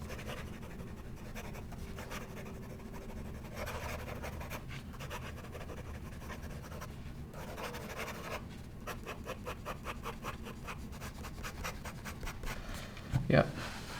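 Danitrio Densho fountain pen with a smooth nib writing fast on paper, a steady close scratching and rubbing that runs throughout, ending in a brief louder scrape.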